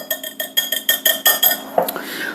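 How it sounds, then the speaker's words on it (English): A utensil stirs pancake dry ingredients (flour, salt, a pinch of baking soda) in a bowl, clinking against the sides in a quick, steady rhythm of about ten close, bright taps, with no talk over it. "you want to give that a little bit of a stir together"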